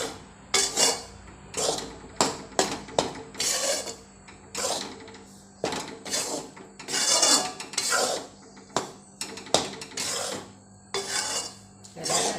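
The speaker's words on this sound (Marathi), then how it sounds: "असे सगळं कावेलट्याने चांगले असे फोडून घ्यायचं आणि असं फिरवत राहायचं" A spatula stirs and scrapes besan flour roasting in ghee in a pan over a low flame, making repeated rasping scrapes in an uneven rhythm, close and clear, with no voices.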